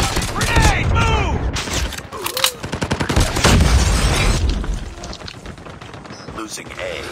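Gunfire and a grenade blast in a military shooter game with objective capture points, dense bursts of shots crackling near and loud while in-game voice callouts speak over the combat.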